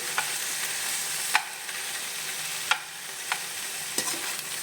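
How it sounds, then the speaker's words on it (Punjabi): Okra roasting in a pan gives a steady, close sizzle, broken by a few sharp scrapes and clicks of stirring spaced about a second apart, with no voices. "ਪਹਿਲੇ 1 ਮਿੰਟ ਨੂੰ ਅਸੀਂ ਭੁੰਨ ਲਿਆ ਚੰਗੀ ਤਰ੍ਹਾਂ"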